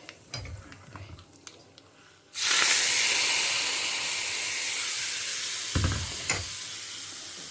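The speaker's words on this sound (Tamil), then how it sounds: "கடுகு உளுத்தம்பருப்பு கடலப்பருப்பு பெருங்காயம் கருவேப்பிலை தாளிச்சிட்டு இதை அப்படியே இதில் குத்த வேண்டிதான்" Mustard seeds, urad and chana dal, asafoetida and curry leaves hit hot oil for tempering, bursting into a sudden loud, sustained hiss that slowly eases, after a few quiet clinks before and with two stirring knocks near the end.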